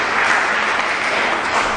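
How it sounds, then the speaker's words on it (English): A church congregation clapping their hands for Jesus at a Holy Spirit night service, a dense, loud, continuous wash of many hands with no gaps, close and filling the room, no talking over it. "Clap your hand for Jesus as you take your seat"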